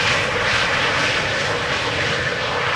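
A KLM airliner landing at Amsterdam Schiphol Airport gives a steady, loud engine roar that stays broad and even throughout, with no voices over it.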